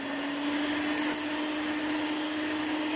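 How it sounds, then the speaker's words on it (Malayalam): An electric beater whips butter for a cheese sponge cake, giving a steady, continuous high whirring hum at close range without any pause or talking. "ബട്ടറിനെ നന്നായി ബീറ്റ് ചെയ്യാൻ പോവാണ്"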